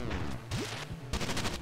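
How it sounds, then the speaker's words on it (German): Several punchy gunshot bursts ring out in the game Retro City Rampage, loud, retro-styled and closely spaced over a brief moment. "Ach, das ist wieder so ein Schuss."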